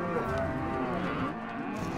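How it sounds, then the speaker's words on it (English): Cattle mooing during a California cattle drive, overlapping low drawn-out moos from several animals, loud and continuous throughout with no voices. "Shane's son-in-law Justin and his son Jared are also keeping the cattle moving."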